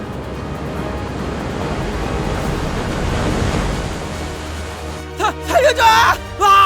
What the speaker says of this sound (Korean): 바닷물이 쏟아진다.